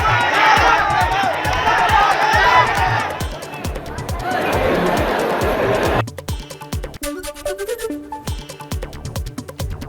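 An angry mob of protesters in Amalapuram roars loudly and continuously for several seconds, a dense wall of shouting crowd noise, before it drops away and music takes over.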